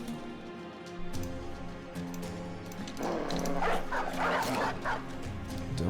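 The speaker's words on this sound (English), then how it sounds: "Doggies." Several dogs bark, yip and whimper in a video game, starting with a lone bark and building into an overlapping, excited chorus that grows louder toward the end; close and busy with no talk.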